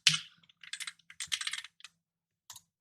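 Quick bursts of keystrokes on a computer keyboard during coding, irregular clusters of close, crisp clicks followed by a final single press after a pause, with no voice.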